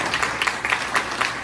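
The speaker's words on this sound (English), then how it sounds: "Everyone, give Lanny a round of applause." Applause from an audience at a county GOP primary forum in Blanco County, Texas: a short burst of scattered clapping, fairly close, with uneven bursts and no voices over it.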